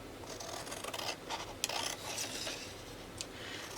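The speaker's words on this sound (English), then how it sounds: "I'm going to use scissors to cut" Scissors snip and rasp through a planner page about a quarter inch outside a light pencil line, a quiet run of close, scratchy cuts with a few sharper clicks and no talk.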